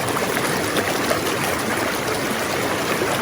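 Water rushes steadily through the tubes of a gold trap sluice on a river, a constant close hiss and splash with no pauses.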